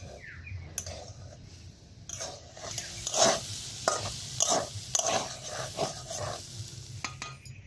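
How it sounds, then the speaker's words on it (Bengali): Grated paneer being stirred in a pan for a momo filling: scraping, shuffling strokes with a soft sizzle beneath, loud and close, with no talk. "পনিরটা দেওয়ার পর হালকা একটু নেড়ে চেড়ে নামিয়ে নেব।"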